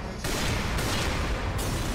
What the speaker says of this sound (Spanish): Se carga este de varios disparos.